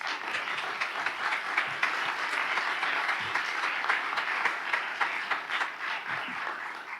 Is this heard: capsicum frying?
no